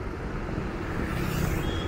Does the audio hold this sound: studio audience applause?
no